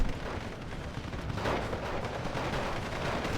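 Gunfire and artillery rumble in the WWII strategy game Steel Division 2 as troops fire on partisans, a dense, continuous roar of distant shots and booms with no voices.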